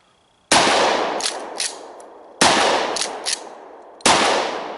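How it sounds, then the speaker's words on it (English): Three loud, close shotgun blasts from a short-barreled Super Shorty shotgun fired outdoors downrange, spaced about two seconds apart, each a sharp crack with a ringing echo tail and brief secondary reports. "Let's put a few rounds downrange in this configuration."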